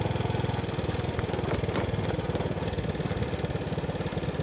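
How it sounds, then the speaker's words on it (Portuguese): Road construction machines working on the PB 264 highway in Paraíba, Brazil, a steady pulsing diesel engine chug close by with faint clanks over it, and no talking. "E as máquinas estão ali trabalhando."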